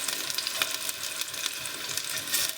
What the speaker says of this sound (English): Add 2 medium-sized potatoes and let us shallow fry it.